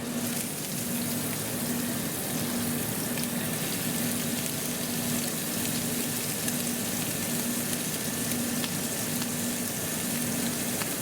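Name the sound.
food searing in a hot pan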